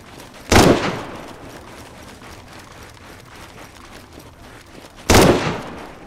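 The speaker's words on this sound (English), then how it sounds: "They're snapping shots up at me." Two sharp, loud shots from a video game shooter, spaced several seconds apart, each a sudden broadband crack with a brief tail, with quiet background between them.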